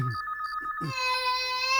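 A telephone rings in a family home scene from a Hindi-dubbed Telugu film: two short bursts of electronic ringing, a brief voice, then a sustained ringing tone, all fairly quiet.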